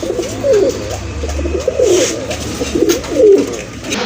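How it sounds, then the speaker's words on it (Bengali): Jorna satin pigeons coo in repeated soft, throaty bursts, close by, over a low background murmur. "আরেক জোড়া কবুতর, জর্না শাটিন কবুতর"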